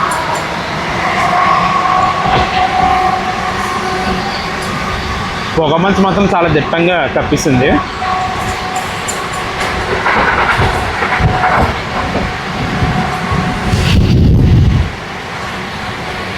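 A Vijayawada MEMU passenger train runs in dense fog, its steady rumble and rattle continuous and close throughout, with someone talking over it.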